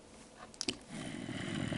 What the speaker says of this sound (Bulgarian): Нещо се прозявам.